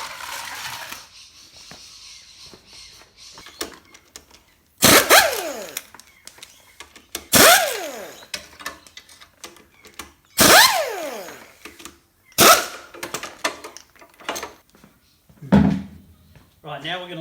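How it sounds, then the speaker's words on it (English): A Honda CT110 Postie motorbike has its foot pegs removed during clutch work, giving a run of loud, close metallic clanks and ringing knocks at irregular intervals, with quieter tool rattles and handling noises in between. "So what we'll do first is we'll take the foot pegs off."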